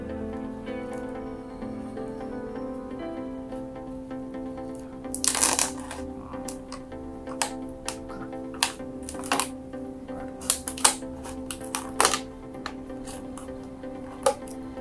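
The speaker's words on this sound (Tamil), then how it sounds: "அடுத்தது வந்து சிசர் வச்சு இங்கே கட் பண்ண போகிறேன்" Scissors cutting through a discarded plastic water bottle, a burst of crinkling crunches followed by irregular sharp snips and cracks over a steady background tone.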